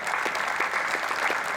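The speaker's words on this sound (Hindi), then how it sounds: "अच्छी चीज के लिए भी तुम ताली बजाते हो" Steady audience applause at a Hindi poetry recital (kavi sammelan) at IIT Jodhpur, a continuous wash of many hands clapping, moderately loud and even, with no talk over it.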